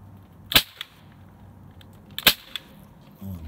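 Two sharp rifle shots fired at about ten yards into snow outdoors, each a loud crack with a short tail, the second following a couple of seconds after the first, with quieter handling clicks between.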